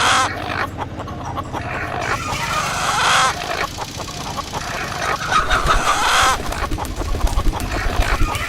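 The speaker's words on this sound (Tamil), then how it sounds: "கொக்கரக்கோ மட்டும்தான்." A rooster crows in a film trailer, loud and near, amid clucking fowl, a dog and other busy background sounds.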